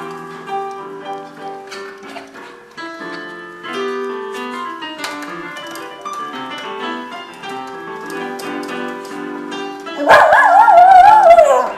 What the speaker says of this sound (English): When the dog sings along.